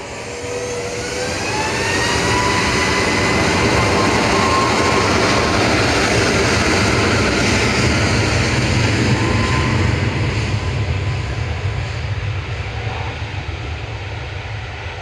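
A departing Ryanair jet at Manchester Airport roars steadily for the whole stretch, the engine noise rising quickly to a loud sustained rumble and broadband whoosh that stays strong and only begins to ease toward the end.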